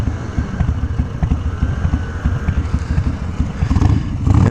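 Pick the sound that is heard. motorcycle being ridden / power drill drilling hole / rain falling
motorcycle being ridden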